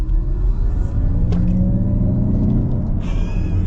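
A 2022 Mercedes-Benz EQS 450+ rear-wheel-drive electric car accelerates, with a loud, continuous low rumble and a rising synthetic drive tone filling the cabin.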